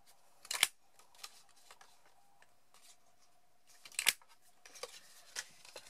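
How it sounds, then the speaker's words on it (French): A small half-inch paper hole punch cuts two little circles from paper, giving two sharp, close crunching clicks spaced a few seconds apart, with faint handling rustles and taps between them. "je vais prendre ma petite perforatrice d'un demi-inch et je vais couper 2 petits cercles"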